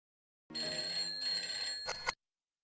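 A telephone bell rings in one continuous trill of a little under two seconds, fairly faint and alone, ending in a brief louder rattle.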